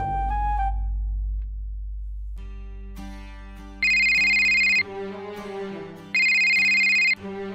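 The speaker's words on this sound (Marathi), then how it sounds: "अरे फोन बघ ना कोणाचा आहे ते सांग" A telephone ringtone at home sounds on its own with no talking: a melodic phone ring that repeats in bright bursts, loud and close, over a low background tone.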